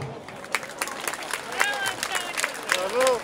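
An audience applauds after an outdoor athletics show, with brisk scattered clapping and a murmuring crowd, and loose bursts of clapping and voices rising and falling over a few seconds.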